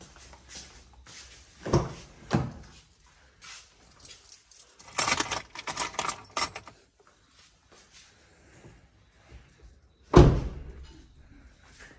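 Palace keys jangle in a few short, sharp bursts, loudest near the end, with quieter handling rustles in between and no talk.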